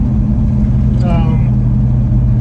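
1967 Pontiac GTO engine running while driving, a constant low rumble heard close throughout, with a brief voice speaking over it midway.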